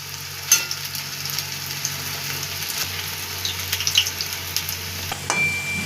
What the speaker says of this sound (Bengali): লাল লাল করে পকোড়াগুলোকে ভেজে নেবো।